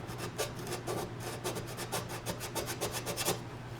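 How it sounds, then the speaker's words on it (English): Sandpaper scuffs wood inside a Martin acoustic guitar in a quick series of short, rhythmic rasping strokes, close and quiet, with no talking. "We're going to take a touch of some sandpaper"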